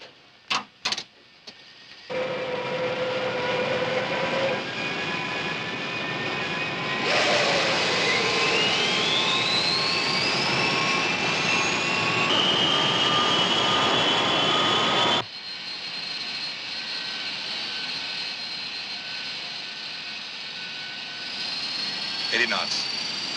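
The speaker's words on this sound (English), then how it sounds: "cleared for takeoff" Airliner engines spool up for takeoff in a 1964 film scene, loud rising jet whine with sweeping tones that climb and hold, a few clicks before the roar and a slight drop in level partway through.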